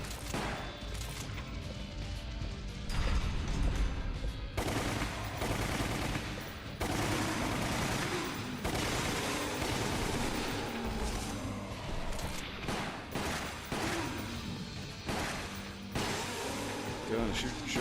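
Repeated gunfire while shooting chimps in the video game Resident Evil: The Umbrella Chronicles, a loud, dense run of shots and impacts lasting throughout under a mix of game effects and music.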